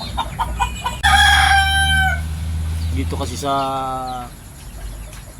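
Two roosters crow nearby, one long loud call followed by another, with someone speaking briefly and soft clucking around them.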